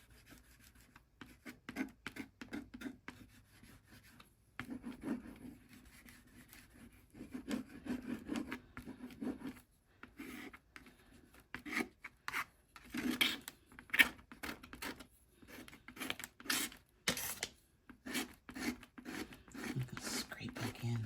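Paint is scraped across a gelli plate in repeated rubbing strokes, soft and close, in uneven bursts with short pauses between them.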